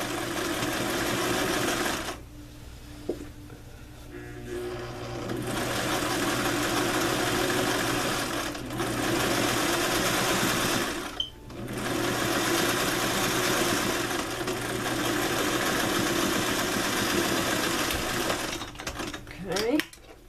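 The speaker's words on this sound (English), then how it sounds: "let's stitch as close to this as possible without interfering in the teeth" A sewing machine stitches close along the teeth of a placket zipper, running in long steady whirring bursts broken by brief pauses, close and loud, with no talk.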